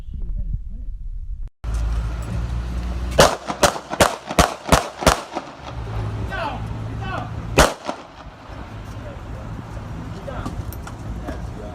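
Gunfire from a police officer shooting a suspect in Huntington Beach, California: a rapid burst of about six loud, sharp shots, then one more shot a couple of seconds later, over a steady rumble of outdoor background noise.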